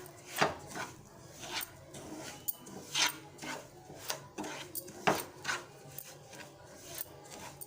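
Broken wheat rava dry-roasts in a pan for kesari, a spoon scraping and stirring in repeated short rasping strokes, fairly quiet and close, with no voices.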